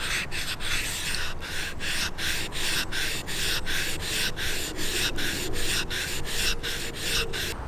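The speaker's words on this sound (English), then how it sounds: "We do this with a dressing stone, running it backwards and forwards, ensuring the sharpening stone is flat." A dressing stone is rubbed backwards and forwards across a knife-sharpening stone to flatten it, making a gritty scraping that repeats in a steady, even rhythm of about a dozen close, fairly loud strokes.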